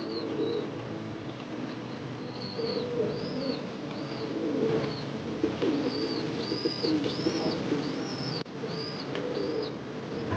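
Racing pigeons coo repeatedly in soft rolling calls close by in a loft in Guimba, Nueva Ecija, with a steady low background hum and occasional rustling.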